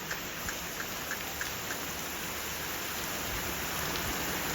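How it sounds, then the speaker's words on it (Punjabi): Heavy rain pours down steadily, a dense continuous hiss of drops striking surfaces nearby. "ਕਿੰਨਾ ਤੇਜ਼ ਮੀਂਹ ਏ"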